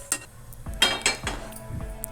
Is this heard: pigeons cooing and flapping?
no